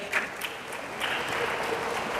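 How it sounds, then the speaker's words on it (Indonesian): A school audience at a motivational session gives a short round of applause for a student, with a few scattered claps at first building into steadier clapping. "Ya, tepuk tangan dong untuk teman kita ini."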